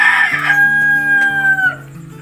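A Brahma rooster crows once up close, loud and drawn out with a falling tail, followed by a few low clucks.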